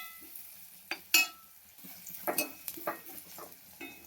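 Coconut pieces with curry leaves and black pepper sautéing in a pan, a quiet background sizzle broken by several sharp scraping and stirring clacks of a spoon against the pan, irregular and close, with no talk.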